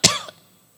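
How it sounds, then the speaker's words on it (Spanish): A man gives a single short, sharp cough, close and clear, ending quickly in silence. "hasta me dan ganas de toser"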